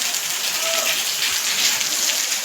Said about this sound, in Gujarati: બહુ સારો વરસાદ પડે છે,